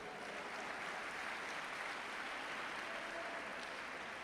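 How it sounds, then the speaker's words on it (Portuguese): Church congregation applauding, a dense, even wash of clapping heard faintly from a distance, continuous and without breaks for a few seconds. "Pode dar um aplauso a Jesus?"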